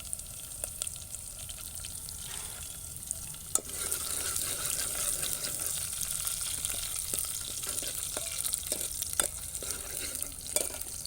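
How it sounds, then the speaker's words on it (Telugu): Green chillies frying with onions in a pan for chicken curry give a steady, close sizzle that swells partway through, punctuated by occasional sharp utensil taps, with no talking. "పచ్చిమిర్చి వేస్తున్నా ఫ్రెండ్స్."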